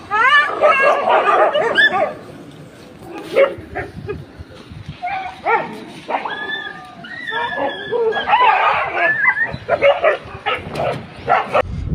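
Several dogs in an animal shelter bark, yip and whimper, loud and close, in uneven overlapping bursts and whines that carry on throughout.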